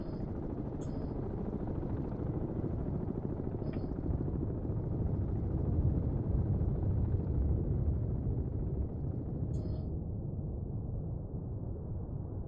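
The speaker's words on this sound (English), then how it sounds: "I can hear that helicopter." A helicopter in the submarine game Cold Waters passes overhead as a low, steady rumbling drone that swells slightly in the middle, with a few faint high electronic beeps scattered through.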